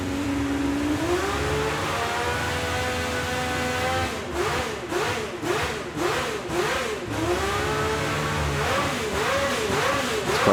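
Honda RA272 racing engine in Gran Turismo 7, whining and revving up and down through gears, a continuous mechanical drone with rising and falling pitch, fairly loud and steady.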